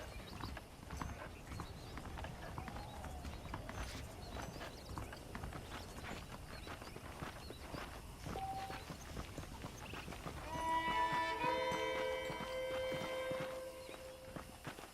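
Horse hooves clip-clop at a steady walking pace in the Western game Red Dead Redemption, a continuous close rhythm with a brief neigh, while soft musical tones rise near the end.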